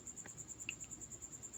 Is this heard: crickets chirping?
yes